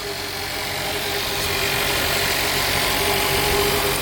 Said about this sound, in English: Listen to that V-dub power just purr.